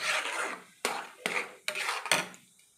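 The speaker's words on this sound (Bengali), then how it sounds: "এবার ভালো করে সুজিটা আমি নেড়ে নেড়ে একটা ভালো করে ডো তৈরি করে নেবো" Semolina is stirred with water into a dough in a bowl: four or five scraping strokes, each opening with a sharp knock of the utensil against the bowl, close and fairly quiet.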